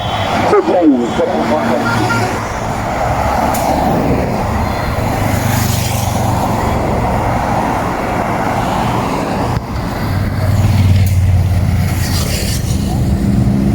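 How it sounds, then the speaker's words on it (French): Steady roar of a motorcycle convoy and road traffic leading a cycling race stage finish in Le Lamentin, Martinique, with a loud motor drone throughout, growing louder near the end, with voices faintly mixed in. "Voilà, l'armada des motos, la presse en avant."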